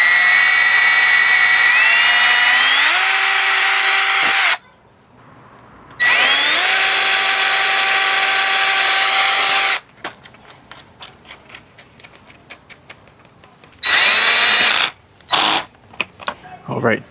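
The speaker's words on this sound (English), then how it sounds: "I've marked out some spots for some holes so I can drill some bolts through here." Power drill boring bolt holes through a removed rear trim panel of a Lexus GX470, loud whining runs that rise in pitch, stopping and restarting three times with short clicks between.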